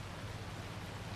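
Steady broadband hiss of rain from the Forza Horizon 2 racing game, an even, continuous wash with a low rumble underneath and no distinct drops or voices.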